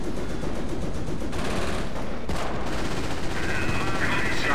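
Battle in Company of Heroes with dense, continuous rattling machine-gun bursts and scattered shots, loud and close throughout.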